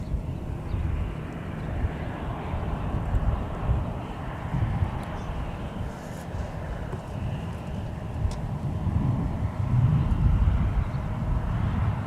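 A Delta Airbus A321 airliner at Minneapolis–Saint Paul airport gives a steady, rumbling low engine roar with broad wind-like noise that holds throughout and swells slightly toward the end.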